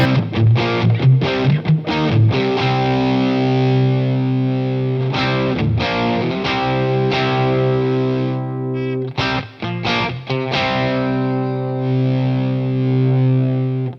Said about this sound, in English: So you can hear as I roll it in, you can hear the distortion coming in underneath.